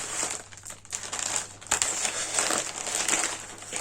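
Plastic packaging from an AliExpress parcel crinkles and crackles continuously up close as it is cut and pulled open with small scissors, with irregular louder crunches throughout.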